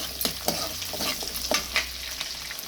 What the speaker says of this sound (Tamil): நல்லா எண்ணெயில் வதக்கிக்கோங்க